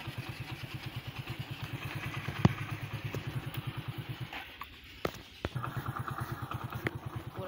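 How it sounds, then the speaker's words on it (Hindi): A motorbike engine runs with a steady, fast mid-pitched thrum while riding out toward a farm, pulsing evenly with a few clattering knocks and a brief dip midway. "हम बाइक पे जा रहे हैं"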